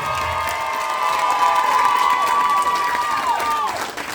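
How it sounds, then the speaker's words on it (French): Wedding guests cheer and applaud together in a steady, lively burst that swells and then eases off near the end, with a sustained tone ringing above the crowd. "Et on peut les applaudir bien fort"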